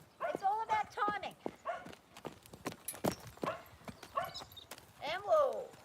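A young mare's hooves clip-clop in scattered, sharp beats while she moves, heard under a person talking.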